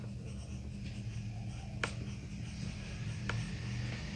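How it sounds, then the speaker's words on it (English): Pencil scratching cross-hatched shading strokes on paper, soft and close, a faint continuous scribbling texture with a couple of sharper stroke accents, quiet and without talk. "In cross hatching technique, you overlap lines at various angles."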